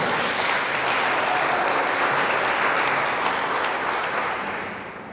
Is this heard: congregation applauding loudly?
yes